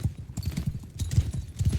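Rapid, heavy hoofbeats of several horses galloping together in a cavalry charge, a thudding rumble with a continuous rhythm, in Mount and Blade Bannerlord.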